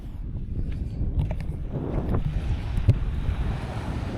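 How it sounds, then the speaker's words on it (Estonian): Sea waves wash against the shore while wind buffets the microphone, giving a steady, loud roar of surf and gusts without any speech. "Siin on meri."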